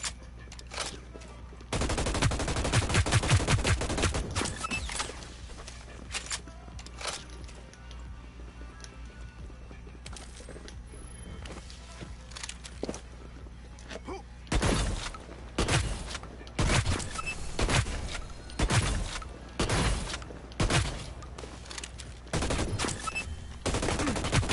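Automatic gunfire in the Hyper Scape shooter game: long rapid bursts of loud shots, one early and a dense run of repeated bursts later, close and sharp with brief pauses between.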